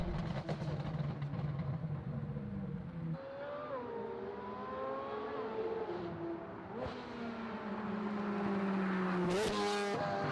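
A Chevrolet LT6 5.5-liter naturally aspirated flat-plane V8 supercar engine revs and drones with a buzzy, rising and falling pitch. It sounds close, steady and fairly quiet, with a sharper burst near the end.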